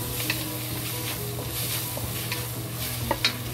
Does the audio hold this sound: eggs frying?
yes